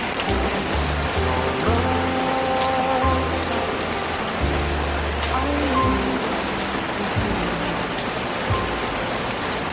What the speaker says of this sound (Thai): ฝนตกทั้งวันเลยทุกคน